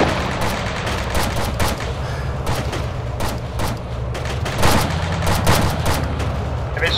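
Sustained gunfire in the military shooter ARMA 3, a steady roar of overlapping shots with sharp distinct cracks scattered throughout, loud and continuous for several seconds with no clear speech.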